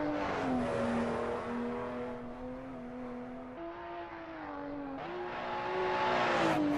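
A BMW M235i engine drones and revs through gear changes in Assetto Corsa on the Nordschleife, the tone stepping up and down with rising pitch near the end, loud and steady, with the exhaust audible throughout.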